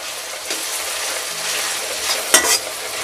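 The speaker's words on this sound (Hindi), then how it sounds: "अभी देखिए ये भी फ्राई हो चुका है।" Mustard greens for sarson ka saag sizzle steadily in a hot pan while a spoon stirs them, with soft scraping and a brief louder clatter near the end.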